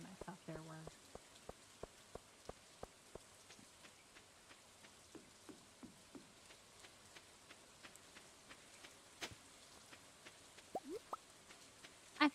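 Rain in the Stardew Valley video game on a beach: a quiet, steady patter with scattered sharp drips and plops, faint throughout.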